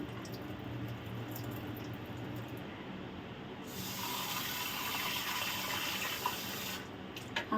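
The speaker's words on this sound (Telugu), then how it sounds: "ఒకసారి అయితే కడిగేసుకుని నీళ్ళు పెట్టుకుని మళ్ళీ కడుక్కుందాం" Soaked chana dal being rinsed in water in a kitchen, a soft continuous swish and splash of water and lentils, quiet and close, growing a little fuller partway through, with no talk.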